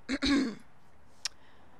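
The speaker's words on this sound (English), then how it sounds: "I strode up to him, clearing my throat." A short throat clearing, two quick guttural bursts close to the mic, followed by a brief faint click in an otherwise quiet room.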